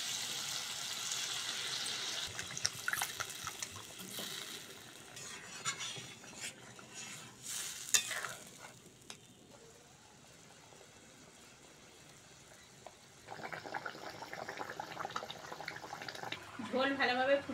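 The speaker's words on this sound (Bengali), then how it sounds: "প্রথমে সসের বাটিটা ধুয়ে অল্প করে জল দিয়ে দেবো" Water is swirled in a rinsed sauce bowl and poured into a simmering fish curry in a pan, a soft splashing and trickling with clinks of utensils, fairly quiet, with a louder sizzle and pour near the end.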